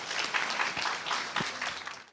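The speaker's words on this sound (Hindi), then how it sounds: "सभी बच्चों ने सरिता जी को बहुत अपना गर्मजोशी से वेलकम दिया ताली बजाकर" Schoolchildren at Dhruva Public School clap in welcome for a guest, a lively, fairly close burst of applause that holds steady and tapers slightly at the end.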